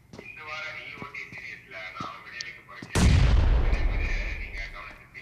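Gunfire in a video game shooter: a heavy, booming shot or blast erupts loudly and rumbles on, while voices talk over game sounds before it.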